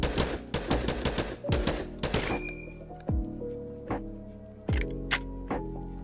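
An M1 Garand rifle in a multiplayer VR survival game fires a rapid string of sharp, loud shots, then slower single cracks with ringing tails and a metallic ping as the clip ejects.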